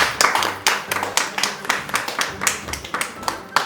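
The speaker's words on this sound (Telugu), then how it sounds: "అందరూ క్లాప్స్ కొట్టండి" An audience clapping for a prize winner at a drawing competition award announcement, a brisk run of close, sharp hand claps from a small group, uneven in rhythm and fairly loud.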